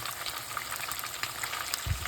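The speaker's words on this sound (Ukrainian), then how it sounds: "Так, смажемо далі." Crucian carp frying in a pan of oil, giving a steady, close, broadband sizzle that holds throughout with a brief low thump near the end.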